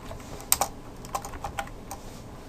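Sparse typing on a computer keyboard, a handful of light key clicks in an uneven rhythm at close range in a quiet room.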